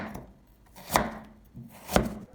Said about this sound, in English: Take half a carrot, slice it thinly with even thickness.